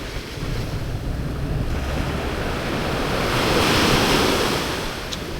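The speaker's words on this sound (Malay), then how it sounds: "Ombak besar sikit ni." Big ocean waves roll in and break on a sandy beach, a steady roaring wash of surf with wind noise, swelling louder midway before easing slightly.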